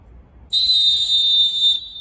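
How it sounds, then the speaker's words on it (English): A survival whistle gives one loud, piercing, steady blast lasting over a second, close and alone against a quiet background. "The survival whistle will be shared out to all Biafrans free of charge."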